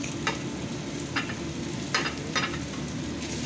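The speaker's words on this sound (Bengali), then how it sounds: "আমি এখন এখানে দেব জিঞ্জার, গার্লিক," Ginger and garlic fry in hot oil in a home kitchen pan, a continuous close sizzle punctuated by several brief bursts as the mixture is stirred, with no speech.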